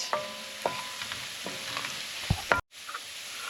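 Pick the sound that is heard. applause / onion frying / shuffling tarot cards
onion frying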